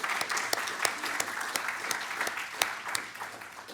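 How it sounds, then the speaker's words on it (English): An indoor audience at an academic award lecture applauds, giving steady clapping that carries on without a break. "I'd like to just spend a moment giving him a hearty round of applause for his support"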